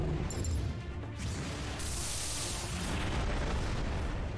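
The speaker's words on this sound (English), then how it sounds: "Okay, we got blown up." A heavy explosion in the mech combat game MASS Builder, a loud booming blast followed by a sustained, roaring rumble and crashing debris that stays dense and loud to the end.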